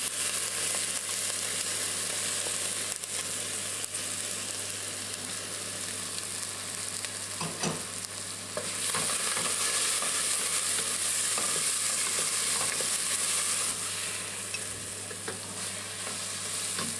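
Onions, garlic, thyme and chili fry in olive oil in a medium pot over medium-high heat, a loud continuous sizzle broken by stirring clacks.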